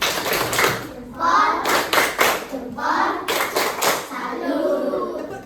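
Schoolchildren in a classroom clap a rhythmic salute clap in several bursts of rapid patterned hand claps, loud and close, with voices talking between the bursts.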